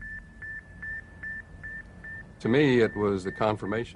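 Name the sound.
Sputnik satellite radio signal beeping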